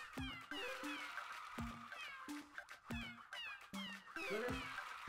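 A cat meows repeatedly in the background, about eight short rising-and-falling calls in a loose rhythm, faint and somewhat distant against a quiet room.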